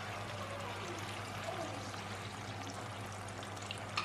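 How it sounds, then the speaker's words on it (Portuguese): A little starchy pasta water is poured onto bacon in a pan while making carbonara, giving a steady, soft pouring and hissing wash that runs without break at low level. "Coloquei um bocadinho da água da massa ali no bacon."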